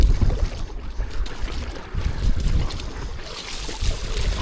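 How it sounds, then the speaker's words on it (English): An inflatable paddle board is paddled through open water with a deep, kayak-style stroke, giving continuous close sloshing and splashing mixed with steady wind rumble on the microphone, with no voices. "I guess I'm going deeper with the paddle."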